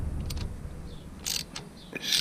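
A bolt on the gear shifter of a Honda Grom motorcycle is tightened, with a few short metallic clicks and ratcheting ticks scattered over quiet background rumble, close by.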